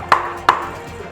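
Two sharp, close hammer knocks on wood about a third of a second apart, a sound effect in a school theater arts radio play, followed by a quiet room.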